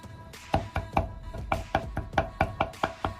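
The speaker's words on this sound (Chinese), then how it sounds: "尽量剁细一点。" A knife chops meat finely on a cutting board, about a dozen sharp, close thuds in an uneven, brisk rhythm, with no talking.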